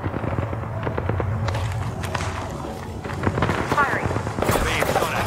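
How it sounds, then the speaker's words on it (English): Rapid bursts of video game gunfire in the shooter Fuse, crackling repeatedly under and around a player's talk, with dense volleys building toward the end. "Firing. Being shot at."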